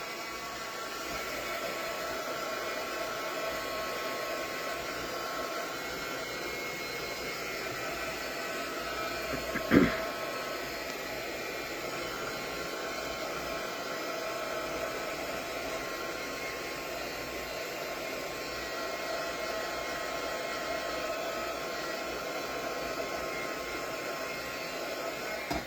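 A hair dryer dries paint on a handmade scrapbook card, a loud, steady, close whooshing hum that runs the whole time with one brief knock partway through and no speech.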